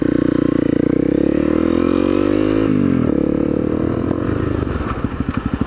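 A Honda CRF250L trail bike idles and revs on a country lane while turning around. The single-cylinder engine drones steadily up close, dips in pitch midway, then settles into a slower, loping putter.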